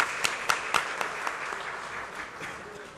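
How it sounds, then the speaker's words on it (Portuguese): Applause at a formal solemn session in a legislative chamber: a burst of sharp clapping at the start that settles into steady, moderately loud clapping from an audience and slowly fades. "Uma salva de palmas."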